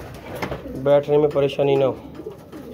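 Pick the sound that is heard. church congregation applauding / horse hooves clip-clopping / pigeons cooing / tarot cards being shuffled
pigeons cooing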